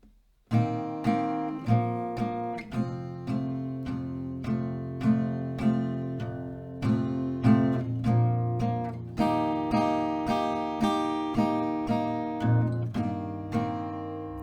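Slow, evenly paced chords ring out one after another on an acoustic guitar, each letting its notes sustain before the next, with no talking.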